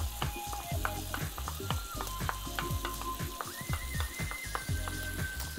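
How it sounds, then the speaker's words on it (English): Creme fraiche goes into a hot pan for prawn and prosciutto linguine, setting off a loud, close, crackling sizzle with busy pops and spatters throughout. "I'm just going to put that into the pan."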